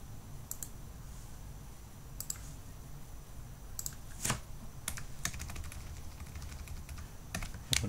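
Computer keyboard typing while copy and paste shortcuts are pressed during CodeIgniter 4 web development, heard as quiet, sparse clicks with a few sharper key taps over a soft background hum, no talking.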